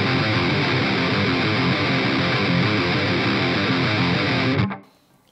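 Distorted electric guitar chugs a riff as heavy power chords, loud and dense, playing continuously with no voices before cutting off abruptly near the end.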